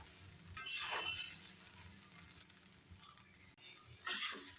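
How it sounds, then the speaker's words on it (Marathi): Sabudana khichdi fries in a pan, a soft crackling sizzle broken by two louder bursts of scraping and stirring, one early and one near the end, all close up and without speech. "तिला ना चांगला तर फ्राय करून घ्यायचं, हलवून घ्यायचं चांगलं."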